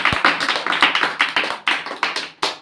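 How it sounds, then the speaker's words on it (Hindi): A small audience claps at a Ramayana recitation session, a series of sharp, close, uneven hand claps ringing out alone for a couple of seconds. "वेरी गुड, तालियां।"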